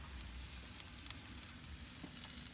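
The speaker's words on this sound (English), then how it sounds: "You'll also hear sizzling from the bacon. I mean, not the bacon, the butter." Butter sizzling in tin foil on an outdoor grill, a faint, steady crackling hiss with small pops, continuous and close, no voices.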